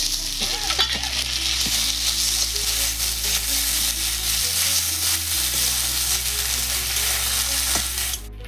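Ginger and cumin paste sizzles and fries with chilli and spices in a hot pan for a Bengali fish-head muri ghonto, a steady loud crackling hiss that continues throughout with no talk.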